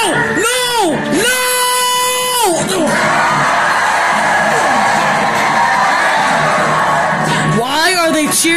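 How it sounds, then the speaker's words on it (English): A crowd in the Luigi's Mansion 3 video game cheers and whoops loudly and steadily for several seconds, mixed with animated character yelps and sweeping game sound effects at the start and end. "Why are they cheering?"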